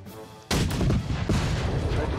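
Gunfire and artillery blasts from the Napoleonic strategy game Victory and Glory: Napoleon erupt suddenly after a quiet start, then roll on as a loud, sustained burst with a second volley about a second later.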